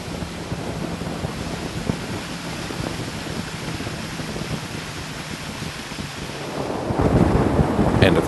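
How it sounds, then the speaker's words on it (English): Thunderstorm rumbling at a distance, low and steady with wind buffeting the microphone, building louder toward the end; no talk. "There's a storm brewing though"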